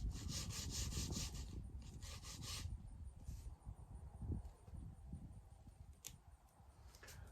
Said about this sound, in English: sand that off so it sits flat